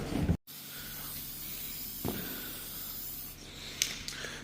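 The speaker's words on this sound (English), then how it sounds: "is spraying them with second shot of graphite" Graphite is sprayed from an aerosol can onto cleaned soybean planter plates, a continuous airy hiss broken by a short gap near the start, with faint metallic taps and rustles in the background.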